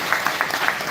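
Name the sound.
audience applause for Parks and Rec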